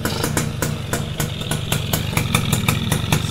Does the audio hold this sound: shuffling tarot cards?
no